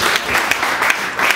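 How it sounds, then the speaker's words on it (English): A church congregation claps in praise, a dense steady patter of many hands that swells and eases slightly over a short stretch, fairly loud and close, with no talking over it. "Let's give God a clap of praise."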